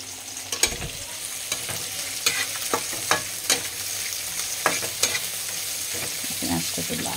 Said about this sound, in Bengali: পেঁয়াজটা একটু লাল হবে, অল্প তেল দিয়ে চালটা।